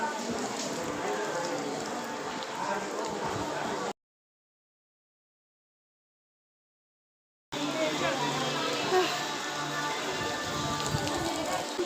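Steady rain falls during a bus trip to Yadagirigutta and Swarnagiri, a dense even hiss of drops that cuts out to silence for a few seconds midway, then resumes at the same level.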